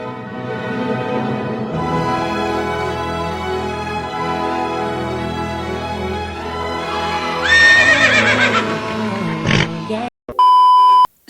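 Horses whinny and gallop with clip-clop hooves in a battle animation of Numidian cavalry against Roman soldiers, loud and sustained under a music bed, followed by a short electronic beep.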